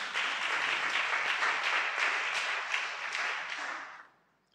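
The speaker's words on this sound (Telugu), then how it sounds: "చప్పట్లు కొట్టండి అందరూ." A church congregation at a Catholic shrine bursts into sustained applause, many hands clapping loudly and densely for about four seconds before quickly fading out.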